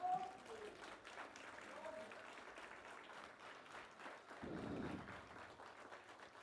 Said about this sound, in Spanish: ¿Qué tal si nos paramos y le damos un aplauso al Señor